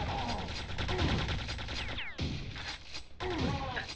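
Turret monsters in Quake II open fire with rapid, dense bursts of gunshots that fill most of the stretch, stopping abruptly twice before resuming, loud and close, with game effects sweeping through.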